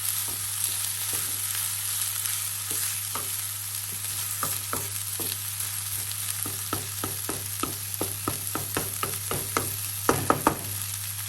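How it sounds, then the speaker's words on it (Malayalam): Raw plantain and carrot for a thoran stirred in a pan, a low steady sizzle under a run of scraping and tapping strokes that grow quicker and louder toward the end, with a constant hum behind. "നമുക്കിനി നന്നായിട്ടൊന്ന് ഇളക്കിയതിന് ശേഷം ലോ ഫ്ലെയിമിലിട്ട് അടച്ചു വെച്ച് കുക്ക് ചെയ്യാം."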